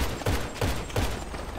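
Gunfire in a GTA game, three heavy shots roughly a third of a second apart, fairly loud, each leaving a short rumbling tail.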